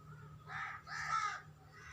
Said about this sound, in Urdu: کوے بھی کہیں کہیں کرتے آپ کو سنائی دے رہے ہیں